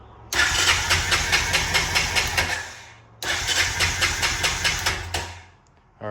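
A 1998 Honda Foreman 450S 4x4 ATV engine cranks over on the starter in two long bursts, a steady rhythmic churning that fades out at the end of each attempt, loud and close with no talk.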